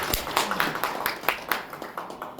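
Applause from the audience at a National Assembly policy forum on scrapping old diesel vehicles, with dense, steady clapping lasting the whole time and no voices over it.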